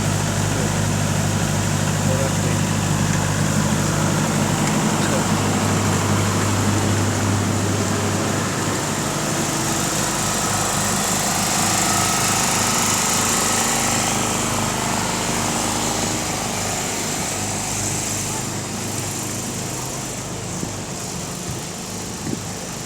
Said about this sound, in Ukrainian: зелений генератор теж. Теж, мабуть, дизель, я не знаю